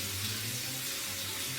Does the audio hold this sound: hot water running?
yes